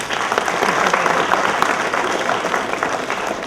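An audience at a stage play bursts into dense, sustained applause that stays loud and even throughout, with some crowd noise mixed in.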